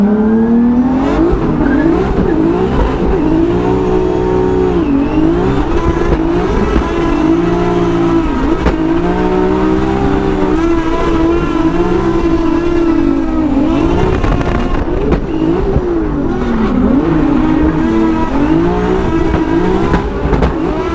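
A 2JZ-swapped BMW E36 drift car at Formula Drift Irwindale 2024 revving hard in the burnout box, a loud, continuous engine roar with rising and falling revs and tire noise.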